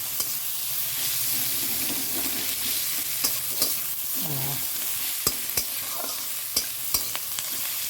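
Whole cumin and onion sizzle in hot oil in a pan, a steady close frying hiss broken by sharp clinks and scrapes of stirring, with no talk.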